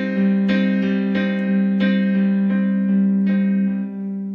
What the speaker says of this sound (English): So you play it like that, that's the broken chord method.